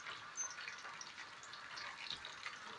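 Potatoes fry in hot oil with a steady, soft bubbling sizzle, even and unbroken, heard close but at low volume with no talk over it.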